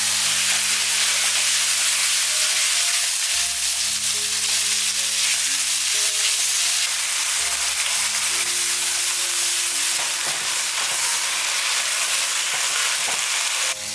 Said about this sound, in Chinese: 肉末我们先来煸香